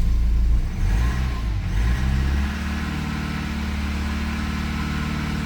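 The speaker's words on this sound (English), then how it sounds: "And now this time I'll hold the revs up." A Subaru engine that stalls after starting is held at high revs, the note climbing early and then settling into a steady, sustained drone with clear harmonic tones, close and loud, with no talking.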